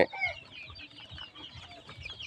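Domestic desi chickens cluck and murmur nearby in a steady low chatter of short, overlapping calls, with a brief sharper squawk at the start.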